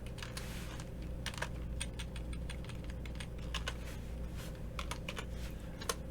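Steady clatter of typing on a computer keyboard, quick irregular keystrokes with a few sharper clicks, fairly close and alone over a low background hum.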